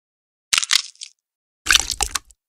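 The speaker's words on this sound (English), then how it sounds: "Swipe along the dotted line to crack the eggs." Eggs crack in the Curious George pancake-making game, heard as two short, crisp crack-and-splat effects about a second apart against silence.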